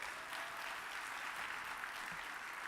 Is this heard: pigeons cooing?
no